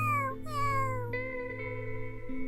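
A cat gives a drawn-out meow with a falling pitch, fairly soft and set over a steady background hum.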